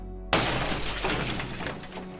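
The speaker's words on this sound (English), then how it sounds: "Jean could hear the smashing of glass" A sudden loud crash of shattering glass bursts in after a brief quiet moment, followed by a dense spray of breaking shards and tinkling debris that stays loud as it slowly settles.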